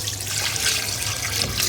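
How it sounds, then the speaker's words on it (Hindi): About two litres of water poured into a cooking pot of Peshawari dum pukht, a steady, close, hissing splash without pause. "तो अब हम इसमें तकरीबन 2 लीटर पानी जो है वो इसमें शामिल करते हैं।"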